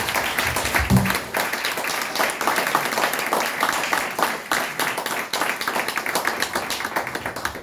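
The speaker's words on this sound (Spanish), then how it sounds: "el aplauso es para él" A crowd applauds at a book presentation, dense, loud clapping sustained throughout, close and continuous, with a brief low thump near the start.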